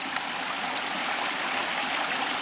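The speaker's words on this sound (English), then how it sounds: "Look at this stream." A stream flowing beside the Laurel Highlands Hiking Trail makes a steady, close rushing hiss of water that stays even and continuous, with no voices over it.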